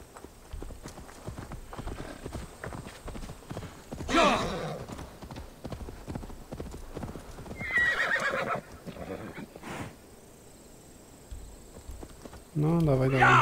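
Rhythmic hoof clip-clops from a horse in the video game Assassin's Creed Valhalla, with a loud whinny partway through and speech underneath; the hooves fall in a steady walking pace.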